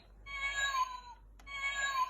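A cat gives two clear, drawn-out meows close by, separated by a short pause and a faint click, with no talking over them.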